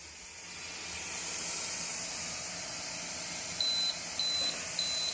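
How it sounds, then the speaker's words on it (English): Electric pressure canner, loaded with pinto beans for canning, gives three short, evenly spaced high beeps near the end over a steady hiss of venting steam. "that just beeped, which means we have to switch this over to airtight"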